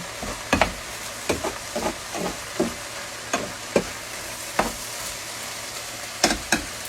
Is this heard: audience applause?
no